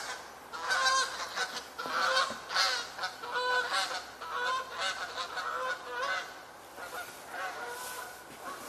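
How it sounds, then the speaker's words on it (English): Canada geese flying over woods at dawn, a flock giving repeated loud honks in overlapping bursts that carry on steadily and fade slightly toward the end, with no talk over them. "And I hear more Canada geese"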